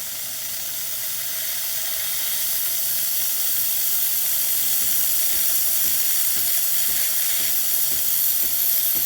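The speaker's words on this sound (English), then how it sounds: "I'm gonna run the hot water and steam function." A Breville XL espresso machine's steam wand hisses steadily and loudly, a broad continuous rush that swells slightly after the first couple of seconds and holds without a break.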